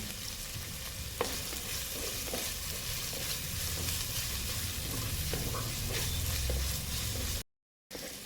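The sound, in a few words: onions frying with curry leaves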